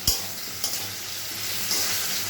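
Ridge gourd, potato and poppy seed paste fry in a pan. A sharp sizzle bursts in at the start as the paste hits the hot oil, then a loud, steady frying hiss continues without speech.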